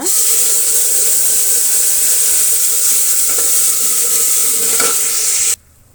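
Sambar with fresh green peas is poured into a pan of sautéed onions and sizzles loudly, a steady close frying hiss with faint stirring that cuts off abruptly at the end.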